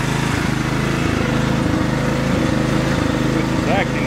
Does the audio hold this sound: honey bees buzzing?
no